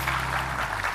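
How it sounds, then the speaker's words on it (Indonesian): Studio audience at an Indonesian television talk show breaks into applause, a brief, even wash of clapping that stays steady and fairly loud from start to finish. "Tepuk tangan buat Nikita Willy"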